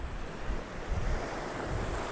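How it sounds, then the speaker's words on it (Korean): Ocean waves wash onto the shore at a seaside in Gyeongju, a constant loud roar of surf mixed with wind buffeting the microphone, no voices. "내가 생각하는 살짝 멋있는 바닷가 느낌."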